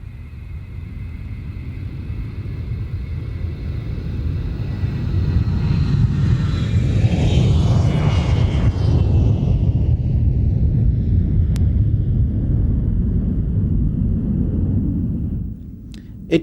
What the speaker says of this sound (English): the Boeing E-3 Sentry is based on the 707 airliner